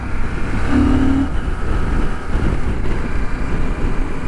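A CF Moto 800MT Touring motorcycle cruises at steady speed in fifth gear, its engine drone a constant close hum blended with heavy wind rush, with no change in pace throughout.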